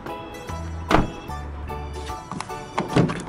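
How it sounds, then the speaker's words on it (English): A door swings shut with a solid thunk near the one-second mark, followed by a lighter knock and further handling bumps, with a low steady hum underneath. "I'll close the door."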